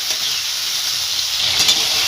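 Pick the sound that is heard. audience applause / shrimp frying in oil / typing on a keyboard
shrimp frying in oil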